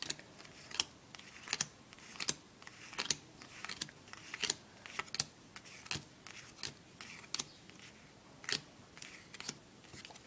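Playing cards dealt one at a time during a beginner's card trick, giving a steady series of crisp, close flicks and snaps at roughly even intervals, no talking.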